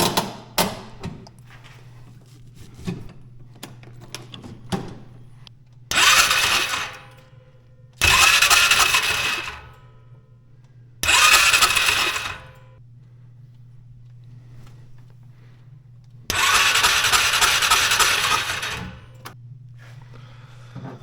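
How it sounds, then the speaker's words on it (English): The engine of a Bobcat with a backfire problem cranks over with its valve cover off, in four separate loud, harsh bursts of one to three seconds over a steady low hum, with scattered small clicks before them and no talking. "Let's crank it over and see how those valves look."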